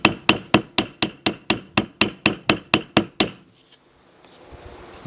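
Hammer bashing a sheet of EVA foam to give it a rough stone texture: a dozen sharp, evenly spaced blows in steady rhythm, loud and close, then stopping to quiet.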